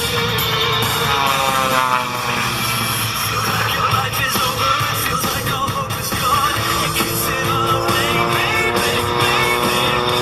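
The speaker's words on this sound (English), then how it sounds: "The B-17 has just landed." A B-17 bomber just after landing at the Sun 'n Fun 2018 air show, its propeller engines droning steadily and loudly for the whole stretch, a continuous rumbling roar with no talk over it.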